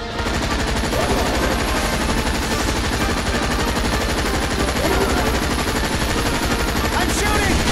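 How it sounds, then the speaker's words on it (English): Dense, continuous automatic gunfire from the shooter Earth Defense Force 5, loud and close, rattling steadily for several seconds with no pause while voices chatter faintly underneath. "I'm shooting!"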